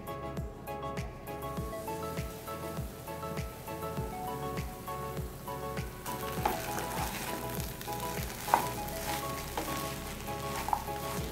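Rava kichadi simmering in a pan with a steady soft sizzle and bubbling, broken by a few louder scrapes of stirring near the end.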